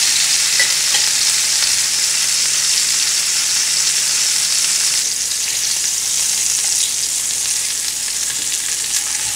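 Pork chops fry steadily in a pan, a dense continuous sizzle with faint crackles throughout, easing slightly partway as the chops are flipped.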